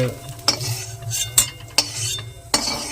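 A spoon lifts fried potatoes out of a pan into a serving bowl, with several sharp metal clinks and scrapes against the cookware over a soft background sizzle of hot oil. No one speaks.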